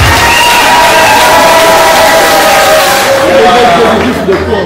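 Dense, loud crowd roar and cheering at a political rally, sustained throughout with shouting voices and babble, easing slightly toward the end.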